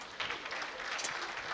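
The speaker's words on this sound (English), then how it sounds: "clap for the Nigerians class" An audience claps at a live comedy show, a brief, faint, steady patter of many hands in the distance.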